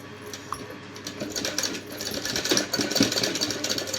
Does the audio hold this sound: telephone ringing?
no